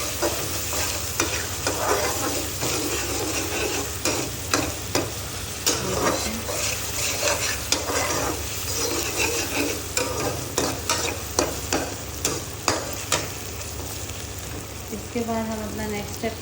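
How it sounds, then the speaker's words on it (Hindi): Masala fries and sizzles in a pan for kaleji, with a steady hiss broken by repeated scraping stir strokes at a regular rhythm, close and fairly loud throughout. "मसाला जो है वो भून चुका है"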